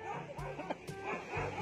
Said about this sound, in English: This dog gets jump scared by a rhino.